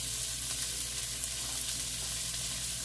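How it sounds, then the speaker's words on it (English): Sliced onions sauté in an oiled pan with a dense, even sizzle that stays steady and close throughout, with light stirring. "Okay, going to saute them until they get translucent."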